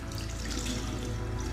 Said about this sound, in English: let's wash our hands for the moment